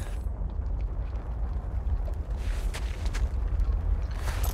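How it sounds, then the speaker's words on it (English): A purple explosion in a pre-rendered Devil May Cry 2 cutscene on PS2 produces a sustained deep rumbling roar with scattered crackling bursts, loud and steady throughout. "Purple explosion."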